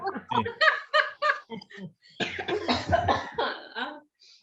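Several people cough in quick bursts, mixed with giggling and laughter, close by.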